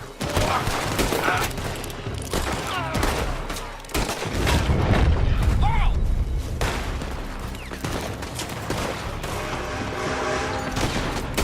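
Sustained gunfire crackles from a building during a Red Dead Redemption 2 shootout, dense volleys of shots piling up over a loud, continuous battle din with a brief lull before heavier firing resumes.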